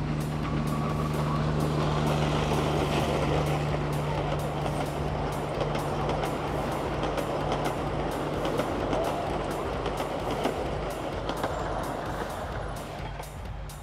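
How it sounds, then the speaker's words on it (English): A distant train rumbles steadily, a broad continuous roar with a low hum and faint rhythmic clicks from the rails, holding fairly even throughout. "It's the sound of a distant train."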